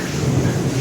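A brief, loud low rumble of thunder rolls over steady rain noise during a downpour at a hostel, with no speech.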